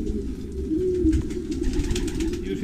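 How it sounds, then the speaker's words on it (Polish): Low, soft cooing of racing pigeons, overlapping and continuous, close by with a faint rustling background. "gołąbki już widać się troszkę uspokoiły"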